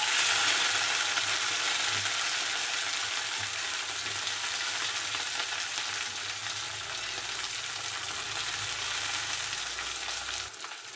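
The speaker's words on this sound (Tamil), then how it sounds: "உப்பு சேர்த்துட்டு காய் நல்லா வதக்கிக்கலாம்" Vegetables such as onion, brinjal and drumstick sauté in hot oil with salt for a lentil sambar, giving a steady, even sizzle throughout with no talking.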